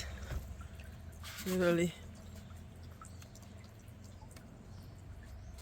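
Water from a DIY solar-powered fountain splashes and drips steadily in the background outdoors, with a short spoken word partway through.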